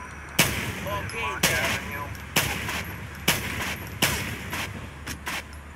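Five sharp, loud gunshots from the HDIV weapons mod in the video game GTA IV, spaced roughly a second apart, each ending in a short decaying tail.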